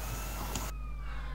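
An in-game siren wails in the MTA DayZ multiplayer game as a steady, moderately loud tone beneath a noisy background that suddenly drops away partway through, with no talk.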